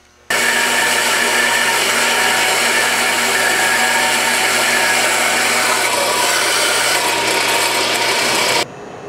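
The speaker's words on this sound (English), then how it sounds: "Then I'll cut this receiver, this part off here." A power tool cuts through a steel trailer receiver hitch with a loud, continuous, close grinding whine and steady harmonic tones, starting and stopping sharply with no talking.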